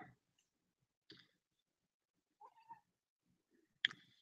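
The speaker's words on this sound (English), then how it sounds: "Here's my girlfriend's other cat." A cat playing with a laser pointer indoors gives a few faint, scattered short meows and small chirps separated by quiet gaps, with a sharper louder call near the end.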